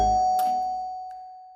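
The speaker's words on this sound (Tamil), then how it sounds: "காலிங் பெல் அடிக்குது?" A doorbell gives a single ding-dong chime, starting with a brief thud. A clear sustained tone then rings out and slowly fades over about a second and a half, close and alone with no voices.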